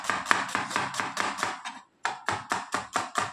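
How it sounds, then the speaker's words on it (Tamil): A knife chopping onion on a cutting board at home, producing rapid, evenly spaced crisp chops close up, with a brief pause midway before the rhythm resumes. "அம்மா கத்திரிக்காய் பொரியல் பண்ணுறதுக்கு வெங்காயம் கட் பண்ணிக்கிறேன்."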